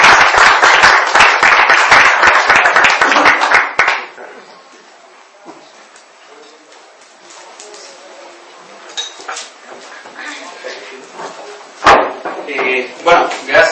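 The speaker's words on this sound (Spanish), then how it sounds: "Un aplauso para él." An audience claps for a speaker at a talk hosted by a skeptics' association in Chile, dense applause for about four seconds that dies away into a quiet room, followed by a voice speaking with a few knocks and bumps.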